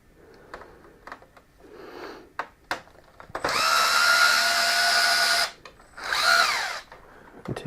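Power screwdriver or drill whirring on a screw of an Acer 27-inch S71H monitor under repair, two bursts, a long steady whine then a shorter one, close, preceded by light handling clicks and taps.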